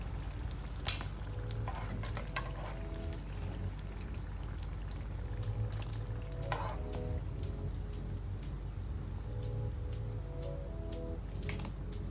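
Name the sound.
chicken samosas frying in oil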